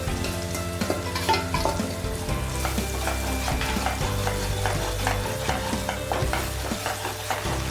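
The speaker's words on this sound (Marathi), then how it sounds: "व्यवस्थित त्या मसाल्याला आपल्याला शिजवून घ्यायचं आहे" Spiced masala with stuffed ivy gourd sizzles and fries steadily in a pan while being stirred, with scraping and clinking of the spoon against the metal throughout, loud and close with no voices.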